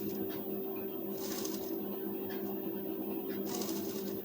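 A sewing machine runs basting stitches along a blouse neckline, a steady close mechanical whir with a constant hum throughout and faint rustling of fabric over it.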